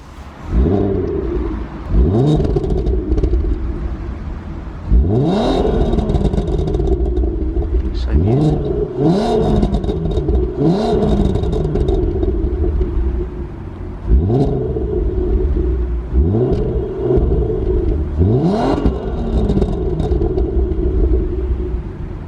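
A VW Mk4 R32 engine starts up and runs, giving repeated loud revs that rise and fall in sharp bursts over a rumbling idle, heard close with voices talking at times.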